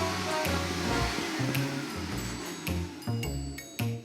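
A vacuum cleaner runs in a Garfield cartoon, giving a steady, loud roaring whir that carries on throughout with music-like tones and bumps layered over it.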